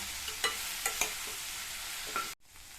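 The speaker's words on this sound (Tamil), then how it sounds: "10-15 நிமிஷம் இந்த வெண்டைக்காய் ஃப்ரை ஆகட்டும். அப்பப்போ இந்த மாதிரி வதக்கி விட்டுக்கோங்க." Okra fries in oil in a pan on medium flame, with a steady sizzle broken by a few sharp scrapes and knocks of stirring, close by and fairly loud, then a sudden cut to quiet.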